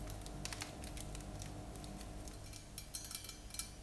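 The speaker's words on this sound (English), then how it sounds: "I like the kind of pitter-patter of it hitting some of the cardboard too." Small hard pieces of Egyptian sweets pattering and ticking onto a cardboard box, a light irregular scatter of crisp close taps growing a little busier toward the end, no voices.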